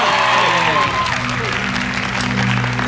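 A television studio audience at a Chinese celebrity singing show claps steadily and loudly in a dense burst of applause that carries on throughout, with a low hum beneath it.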